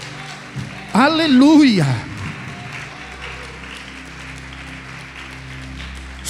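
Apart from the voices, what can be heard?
church congregation applauding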